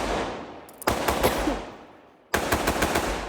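Several rounds fired into an apartment complex during a Saturday night shooting, heard as two loud bursts of rapid gunfire, each with a sharp crack and a long echoing decay, with no voices.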